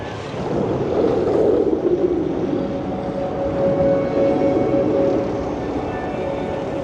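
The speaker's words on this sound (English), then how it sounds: "So on my way out, I've walked past familiar sound and smell. See these generators here." Generators run outdoors at the Thorpe Park theme park at night, giving a loud, steady mechanical drone with a constant hum that holds unbroken throughout.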